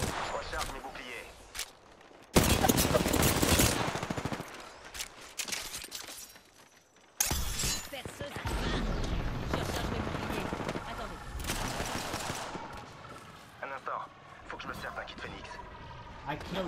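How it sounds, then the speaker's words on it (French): Enemy gunfire in a shooter video game: long stretches of loud, dense bursts and rattling fire with explosive crashes, broken by quieter gaps, with bits of voice mixed in. "Sous le feu ennemi."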